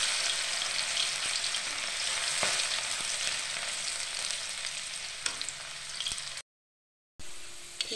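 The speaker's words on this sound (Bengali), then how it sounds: "তেলটা গরম হয়ে গেছে, এবার আমি এর মধ্যে এই ডালগুলোকে দিয়ে দেবো এটাকে।" Lentils fry in hot oil for dal mut, giving a steady, close sizzle that continues without pause apart from a brief dropout near the end.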